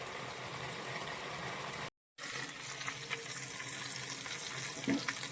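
Chicken grilling in a covered pan sizzles softly and steadily, with a brief cut to silence partway through and faint handling noises after.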